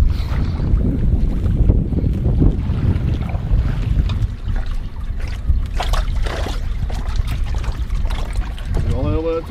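A boat backs up through shallow water while fishing for zander, with a low churning wash and splashing, wind rumbling on the microphone and people talking intermittently nearby.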